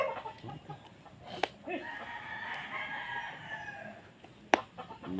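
A rooster crows loudly in a long drawn-out call, with clucking and sharp bursts around it and some background noise.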